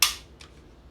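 A Taurus TX22 pistol dry-fired after reassembly gives a sharp, close metallic click at the start, followed by two fainter clicks.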